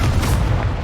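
The Incendio fire spell is cast in Hogwarts Legacy, a loud, deep whooshing burst with a booming low rumble that fills the moment and fades slightly toward the end.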